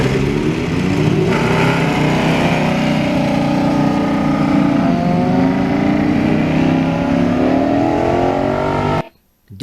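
A Ducati Desmo Sedici motorcycle engine at a Ducati owners' meetup runs loud and close with a steady, throaty roar and slight pitch swells, then cuts off abruptly near the end.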